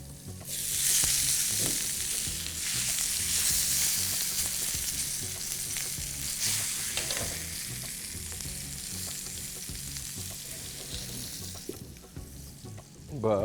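Food fries in medium-hot oil in a pan while Bharwaan Mirchi and besan snacks are being made, producing a loud, steady bubbling sizzle with occasional stirring knocks near the end.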